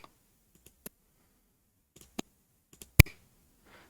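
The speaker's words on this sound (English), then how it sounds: "I'll realign this so it's sort of clicking just as they've been sliced through" Sharp isolated clicks timed to Beat Saber block slices, scattered irregularly across near silence with one louder snap near the end.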